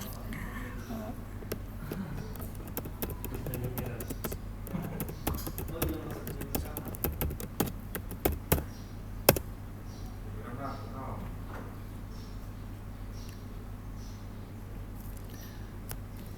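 Quiet clicking from a computer keyboard as a password is typed, with a busy run of keystrokes early and fewer, sparser taps later over a steady room hum.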